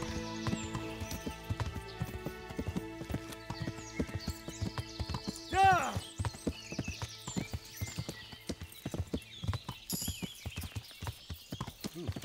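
In the video game Kingdom Come: Deliverance, rapid rhythmic hoofbeats of a galloping horse continue throughout, with a short whinny midway and a voice briefly shouting.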